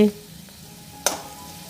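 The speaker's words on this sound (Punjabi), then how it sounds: "5 ਮਿੰਟ ਹੋ ਗਏ ਨੇ ਮੈਨੂੰ ਆਲੂਆਂ ਨੂੰ ਮੀਡੀਅਮ ਟੂ ਲੋ ਫਲੇਮ ਤੇ ਪਕਾਉਂਦੇ ਹੋਏ" Cumin potatoes cook on a medium-low flame with a low, continuous sizzle and one sharp utensil clack near the end.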